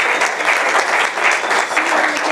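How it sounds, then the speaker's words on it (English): Audience applause for speakers and participants at a co-op and condo board meeting, a dense, steady wash of many hands clapping close and loud throughout. "A nice round of applause to our speakers and participants."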